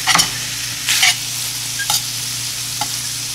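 Sausage browning in a pot over medium to high heat for a stew, a steady close sizzle broken by a few short scraping stirs, with no voices.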